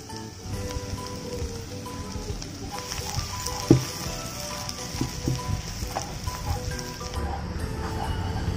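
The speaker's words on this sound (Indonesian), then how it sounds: "Tumis bawang putih hingga benar-benar kecoklatan." Five cloves of garlic sauté in oil until well browned for a spicy pecel lele sambal, a soft, steady crackling sizzle with a few sharper pops and occasional utensil knocks, at moderate level.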